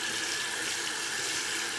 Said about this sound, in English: we're gonna put some warm water on it